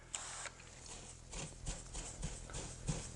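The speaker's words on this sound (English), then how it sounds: "I'm using firm pressure on that steel wool," Steel wool pressed hard against a wall, scrubbing off alcohol-softened paint: a quiet series of rhythmic, scratchy rasping strokes, roughly one every half second, with no voices.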